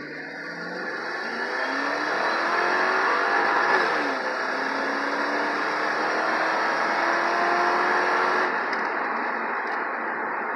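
A 1995 car drives along with its engine humming and revving steadily, tones gliding up through the gears over road and wind noise, sustained and fairly loud from inside the car with no one talking.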